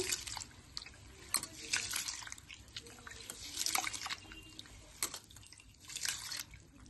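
Rice and lentils being washed in water, with quiet intermittent splashes and drips close by.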